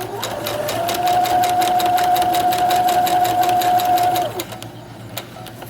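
A sewing machine runs steadily for about four seconds, stitching along the edge of a jumpsuit pocket flap, then winds down quickly. The whirring is close and continuous with a fast mechanical pulse.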